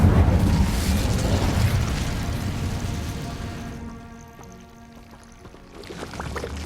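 Incendio fire spell blazing in Hogwarts Legacy, a loud roaring whoosh of flame with crackling bursts that fades down toward the middle, then swells again near the end.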